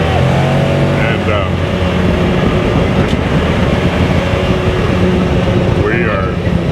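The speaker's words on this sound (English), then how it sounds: "We're actually driving around in a 2021 Can-Am" 2021 Can-Am off-road vehicle driving down a farm road, with a steady loud engine and drivetrain rumble plus wind and rattle throughout, and voices talking over it.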